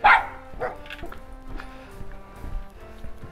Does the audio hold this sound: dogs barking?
yes